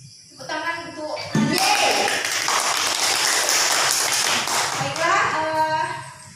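A classroom bursts into applause, dense clapping from many hands that fills several seconds before fading, with children's and a teacher's voices around the start and end.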